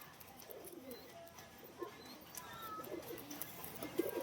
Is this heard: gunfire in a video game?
no